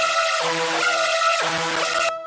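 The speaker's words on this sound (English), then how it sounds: "I also bring in the main screech sound that's playing the original screech pattern, the one that sounds like this." A screechy, harmonically dense synth lead in a DOOM-style heavy metal track rises and falls in repeated sweeping swoops. It plays loud and steady without pause, then cuts off abruptly near the end.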